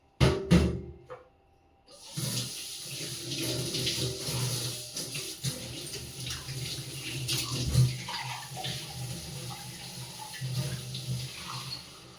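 Tea cups washed under a running kitchen tap, water splashing steadily for most of the stretch after a brief clatter and a short pause near the start.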